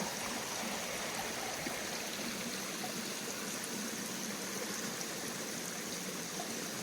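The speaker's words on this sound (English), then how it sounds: "It gives us all these flowing streams." A flowing mountain stream beside the Appalachian Trail after rain, heard as a constant rushing, gurgling wash of water at a moderate distance, steady and unbroken with no voices.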